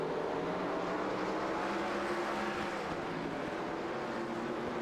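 Stock race car engines droning on throttle at Darlington during a restart, a steady, blended roar with some engine tones, held at moderate distance without distinct passes or any voice.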